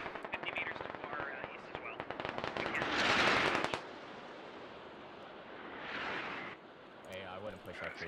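Gunfire in the Squad military video game: rapid automatic bursts and a loud crackling volley, then more distant shots, with a voice talking over the firing.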